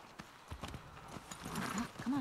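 Horse hooves clip-clop steadily in The Last of Us Part II, an even trotting rhythm heard close under a blend of game sound and voices.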